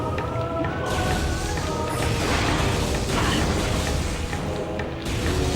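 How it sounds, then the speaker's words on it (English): Puddle spore being destroyed in Metroid Prime, a loud sustained crunching, smashing burst of noise with mechanical rattling textures, swelling over several seconds before easing off. "Let's go ahead and destroy this puddle spore"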